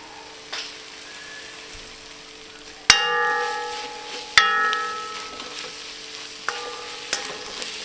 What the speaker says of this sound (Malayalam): മസാലപ്പൊടി മൂത്ത് വന്നിട്ടുണ്ട്